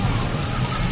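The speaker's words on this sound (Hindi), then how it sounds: "बारिश बहुत तेज है, बहुत तेज हो रही है बारिश।" Heavy rain pours down steadily, a loud, dense hiss of falling water with a low rumble beneath and no clear voices.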